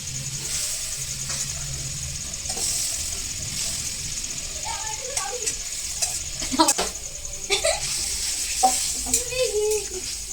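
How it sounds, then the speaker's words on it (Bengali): Meat pieces drop into a hot pan during an outdoor picnic cook-up, setting off a steady sizzle with scattered clinks and stirring knocks, while faint engine noise hums in the background. "এবার এর মধ্যে দিয়ে দেবো মাংসের টুকরোগুলো"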